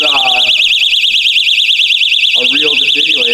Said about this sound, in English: they put this alarm on it because they knew kids would play with it